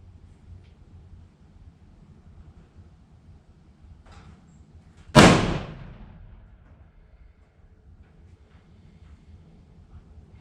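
A single sharp rifle shot cracks out mid-clip and decays quickly over a background of low, gusty wind rumble.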